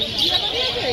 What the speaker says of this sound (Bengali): সাদা বদ্রি পাখিগুলো